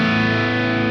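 Electric guitar played through the JCM800 amp model on a Sonicake Matribox 2 with a tube screamer boost, giving a sustained, thick high-gain distorted chord that rings steadily and loud for under a second, with no talking.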